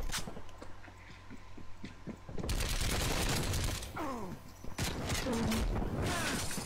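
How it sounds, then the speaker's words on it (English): Video game shotgun blasts in quick succession, loud and punchy, with mechanical reload clicks between shots and someone talking over the gunfire. "Bloody shotguns."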